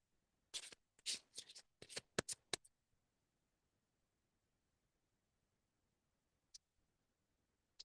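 Tarot cards riffle and snap in quick bursts for about two seconds, then quiet with a couple of isolated taps.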